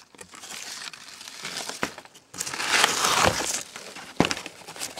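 Old birchbark being peeled apart layer by layer, giving dry crinkling and crackling with brief sharp snaps, close and alone, growing busier midway.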